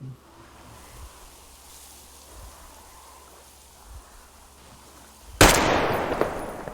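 A single sharp gunshot rings out while hunting in Metro Exodus, a loud close crack followed by a lingering noisy tail, after several seconds of quiet ambient rustle with a few faint low thumps.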